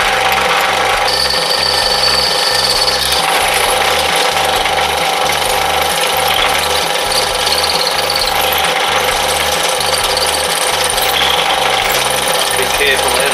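A power drill with a bit slightly smaller than 3.2 mm bores into a 12b trailer winch as the bit flexes, a loud continuous grinding whir with a pulsing low rumble that stays close and steady throughout.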